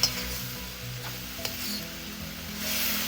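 Marinated Filipino beef tapa, sweetened with brown sugar and Sprite, frying over medium heat in a pan, giving a steady broadband sizzle with a low hum beneath and a brief clink partway through.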